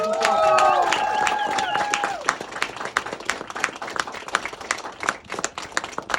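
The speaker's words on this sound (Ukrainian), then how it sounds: "Тож давайте оплесками подякуємо трошки хлопцям." A gathering raising funds for Ukraine's armed forces claps in thanks to the soldiers: lingering tonal music fades early as scattered sharp hand claps build into uneven applause, with some crowd murmur beneath.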